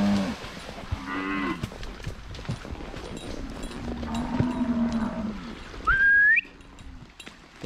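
On a Nelore cattle farm, a cow gives several drawn-out moos at moderate distance, and a brief rising whistle cuts in near the end.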